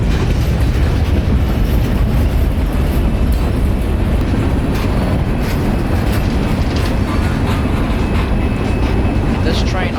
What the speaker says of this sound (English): he has pulled past the Winston Y and is shoving his train into the yard via the south leg